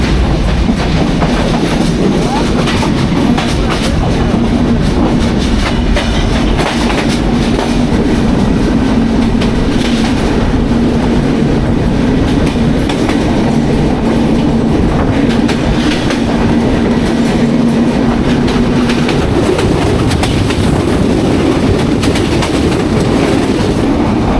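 The Jahanabad Express, a night train from Dhaka to Khulna in Bangladesh, rumbles along the tracks with a steady, loud roar and faint rhythmic clatter of wheels, heard from inside a carriage.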